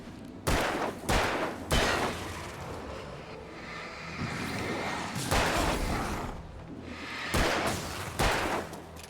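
Gunfire from the video game Alan Wake, with sharp shots in short clusters, loud bursts near the start, middle and end and rumbling game ambience between them, with no talking.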